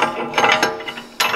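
Ratchet tightening on an Audi A6 wheel bearing with about 400,000 km, rapid metallic clicking of the pawl in a few quick bursts, close and loud, with a brief pause before the final stroke.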